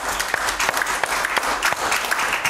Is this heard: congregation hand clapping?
yes